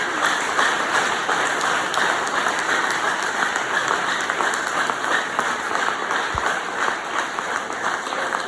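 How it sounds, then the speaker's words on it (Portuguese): Steady congregation applause at a church service, a dense even wash of clapping that continues at constant strength from start to finish. "Aplauda ainda a Deus pela tua vida."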